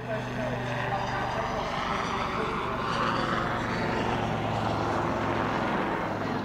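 A two-ship Royal Navy Lynx helicopter display at the seaside Bournemouth Air Festival, heard as a steady, full-bodied rotor and turbine drone that holds evenly throughout.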